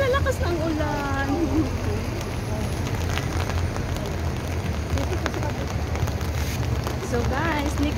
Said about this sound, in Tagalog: Tara guys, ayan, lalakas ng ulan.